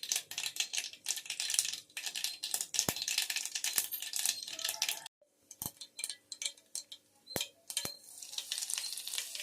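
Mustard seeds crackle and pop in hot oil as a tempering for drumstick-leaf rasam, with a pinch of asafoetida powder going in; a dense, steady sizzle carries sharp snapping pops throughout, close and with no voices.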